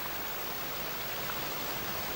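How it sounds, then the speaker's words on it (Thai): Steady rain falling outdoors, a continuous, even hiss of dense drops with no distinct individual hits, moderately quiet and unbroken throughout. "ฝนมันตกน่ะ"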